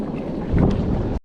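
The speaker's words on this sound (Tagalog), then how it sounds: "Lakas ng hangin eh." Strong wind buffeting the microphone out on a boat, a brief roaring gust of about a second that cuts off abruptly.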